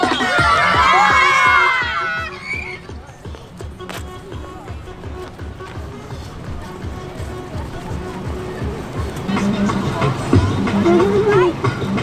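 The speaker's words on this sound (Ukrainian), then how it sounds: "хто буде гучніше стрибати і гучніше кричати" A crowd of children shouts and screams loudly while jumping at an outdoor New Year tree party in Nadvirna, a shrill burst of cheering that gives way to stomping, running feet and chatter from the group.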